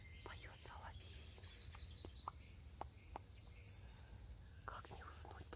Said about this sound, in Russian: Соловей поет, заливается, поет песню своей невесте.